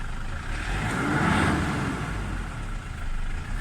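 A Toyota Hilux diesel engine runs steadily after starting, a continuous low rumble with a slight swell in the middle, close and moderately loud with no talking.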